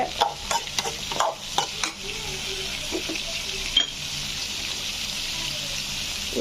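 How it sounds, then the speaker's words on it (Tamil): Carrot chutney ingredients with chana dal sauté in a pan, a run of quick stirring scrapes up front over a gentle continuous sizzle that carries on alone afterward. "இது நல்லா வதங்கட்டும்"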